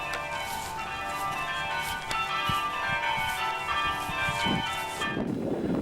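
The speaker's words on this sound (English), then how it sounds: "When we arrived at Avebury, there was an insane tolling of bells." Church bells toll at Avebury in a dense, continuous peal of overlapping ringing tones that holds steady at a moderate distance, then cuts off near the end with a dull thump.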